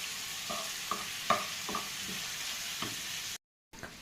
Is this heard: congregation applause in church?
no